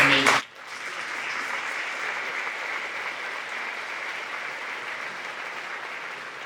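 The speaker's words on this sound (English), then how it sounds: "I want to give them a round of applause because they're amazing" An audience at a school science research symposium breaks into sustained applause, a broad, even clapping that fills the room after a brief burst of talk at the start.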